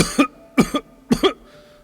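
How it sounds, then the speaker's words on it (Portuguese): Three harsh coughs in quick succession, close and loud, each with a rough double burst. "A tosse não é nada."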